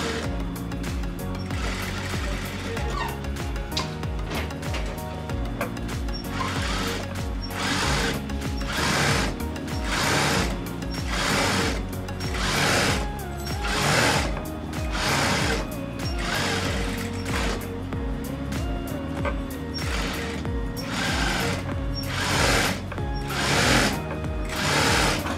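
A sewing machine stitches a pillow cover with cord trim, giving a close, loud, fast mechanical whir in repeated runs broken by short pauses.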